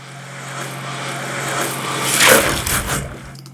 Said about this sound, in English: So far what we've got is this long riser.